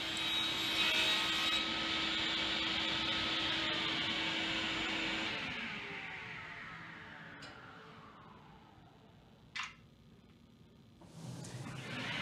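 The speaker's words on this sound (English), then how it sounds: "Using the cross-cut sled once more on the table saw, I'm cutting the side pieces." A table saw fitted with a cross-cut sled cuts wooden birdhouse side pieces: a loud close high whine holds steady, then spins down and fades, followed by a sharp knock and a faint restart of noise.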